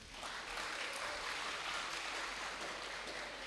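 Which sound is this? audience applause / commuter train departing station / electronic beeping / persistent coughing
audience applause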